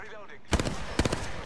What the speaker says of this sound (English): Contact with target. Shot fired.